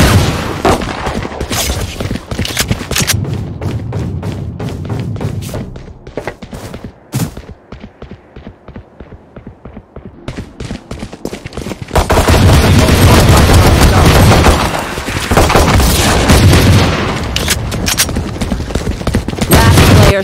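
Gunfire in the shooter game Valorant: rapid bursts of loud shots, sparse single reports during a quieter stretch, then sustained heavy firing toward the end.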